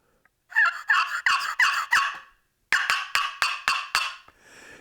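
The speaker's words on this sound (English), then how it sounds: "You take the paddle and you rub it against the top of the box, and that hollowed out box actually creates that amplified sound." A wooden box turkey call, a paddle rubbed against a hollow box, sounds two loud, close runs of raspy turkey yelps: five yelps in the first run, a short pause, then six more in a second run.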